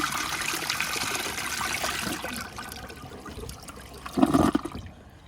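An American Standard Space Saver Cadet water-saving toilet flushes close by: a sustained rushing swirl of water that fades into trickling refill, then a brief gurgling burst near the end before quieting.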